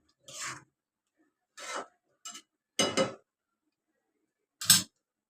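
A spoon stirs wheat kheer sweetened with jaggery in a pot, giving five short, separate scraping rasps with quiet gaps between them and no talking.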